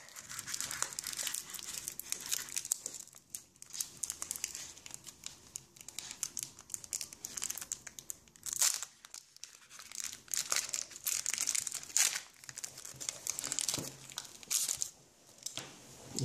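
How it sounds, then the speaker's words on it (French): Pokémon Call of Legends booster packs being torn open one after another, their foil wrappers crinkling and crackling in dense, continuous bursts, close and fairly quiet, with no talking. "On va ouvrir les 6 boosters."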